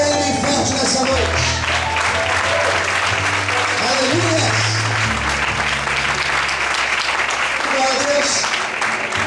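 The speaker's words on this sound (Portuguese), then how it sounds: "glorifique e aplauda Ele bem forte nessa noite" Loud church congregation applause continuing without break over sustained background music, while a preacher's voice shouts praise above the clapping.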